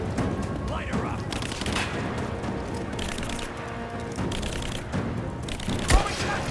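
Sustained rapid gunfire throughout a close-range firefight, steady crackling volleys with occasional louder bursts and a sharp boom near the end, voices shouting faintly beneath.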